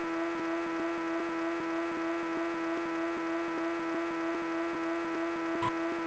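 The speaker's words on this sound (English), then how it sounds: "when you're going full speed like I'm going right now, it really feels like, I don't know, like the engine is struggling" A race car engine held at full speed in the Cruis'n Velocity arcade-style racing game drones as a steady, strained buzzing tone with a regular pulsing rhythm, continuous and unchanging, with no talk.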